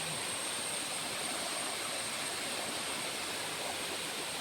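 A countryside waterfall pours at reduced force after two days without rain, giving a steady, even broadband rush of falling water that never lets up, with no voices over it.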